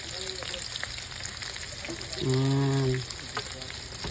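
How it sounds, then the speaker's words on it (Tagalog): Chicken feet fry in a pan with a steady, close sizzle throughout, and a short voiced tone rises briefly over it midway. "Yan, chicken feet fry."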